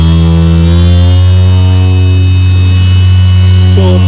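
A Bosch 12V cordless mini sander runs at a low speed setting, giving a loud, steady electric hum that holds unchanged throughout.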